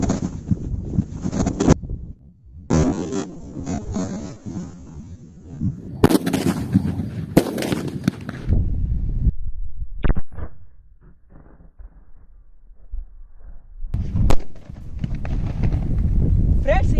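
Homemade bottle firecrackers set off with a power supply give a few sharp, separate bangs, each followed by rustling, over wind buffeting on the microphone, with voices in the background.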